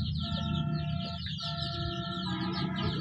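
Twenty-two-day-old chicks being given an eye-drop Ranikhet vaccine cheep in steady, high, overlapping chirps close by, with soft clucking underneath.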